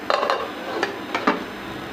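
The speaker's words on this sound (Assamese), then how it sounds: "ইয়াত আৰু ইয়াতে লিডখন লগাই দিম।" Metal clatters of a lid being set onto a pot of boiling spinach, several sharp clinks and knocks in quick succession, close and moderately loud, with no voices.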